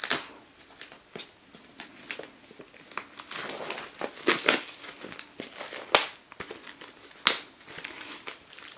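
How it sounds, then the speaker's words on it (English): Plastic wrap is peeled and torn off a 2PM 2022 season's greetings calendar, with close crinkling and crackling that comes in irregular bursts, growing louder with a few sharp rips toward the end. "it is wrapped in plastic, so let's remove that"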